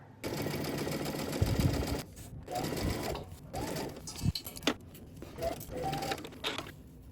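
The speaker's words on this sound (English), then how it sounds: "let's go to the sewing machine. We're gonna go ahead and stitch this side of the zipper down." A sewing machine stitches a zipper tape in bursts of rapid mechanical whirring, starting and stopping several times, close and clear with brief handling noises between runs.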